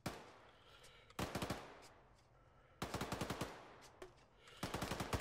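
Gunfire in the video game Arma 3 on a desert map, heard as three separate rapid automatic bursts of sharp cracks, each roughly a second long, spaced apart over a steady low background hum.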